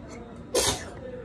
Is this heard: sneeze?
yes